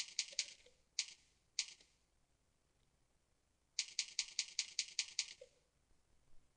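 Soft keystrokes tap on a computer keyboard as an email address is typed, coming in short bursts of a few quick clicks separated by pauses, faint and close with no talking.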